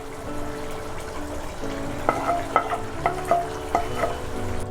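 Fried gongura sorrel leaves stirred into Andhra-style chicken curry cooking in a pan: a soft sizzle underneath, then a run of distinct scraping strokes and taps from the spoon in quick succession.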